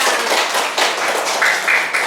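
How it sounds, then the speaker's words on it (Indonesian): A group of people in a classroom clapping hands together, a dense continuous burst of close claps lasting about two seconds with some voices mixed in. "Oke, tepuk tangan dulu untuk kita semua"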